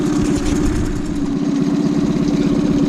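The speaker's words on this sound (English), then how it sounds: "Must say one thing about this engine, this Tohatsu engine, it is really quiet." A Tohatsu fuel-injected outboard engine idles with its cover off, a steady, close, even low rumble with a rapid pulsing beat, heard alone.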